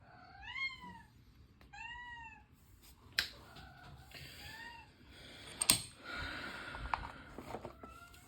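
Pet cat in heat meowing indoors, two drawn-out rising and falling meows early on, then quieter calls mixed with clicks, taps and handling noises nearby.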